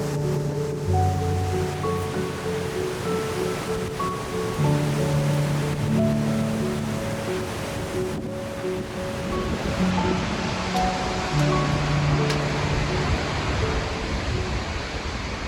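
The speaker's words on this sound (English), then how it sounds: "we began to hear the booming sound of Vernal Falls, one of Yosemite's many famous waterfalls" Vernal Falls in Yosemite roars as a constant, dense wash of rushing water, with a gentle melodic music track playing over it.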